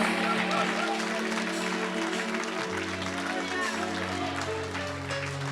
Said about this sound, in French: Lève-toi, acclame ton Dieu très fort.